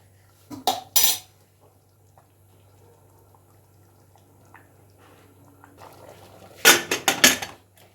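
Metal clanks and clatters as a pressure cooker lid is set and locked in place, a couple of sharp knocks, a quiet pause, then a quick burst of rattling.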